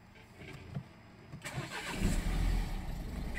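A Nissan Qashqai with a fault in its exhaust gas pressure sensor cranks briefly and starts, settling into a low, rumbling idle heard close by.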